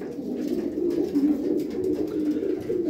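Racing pigeons coo continuously in low, throaty rolling calls, close and steady throughout.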